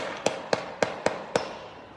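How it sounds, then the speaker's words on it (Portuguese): Five sharp gunshots from a rifle during a street shootout in Salvador ring out at a fairly steady rhythm, each a crisp crack with a short decay over a noisy outdoor background, at a moderate distance. "Isso é tiro de fuzil, bicho."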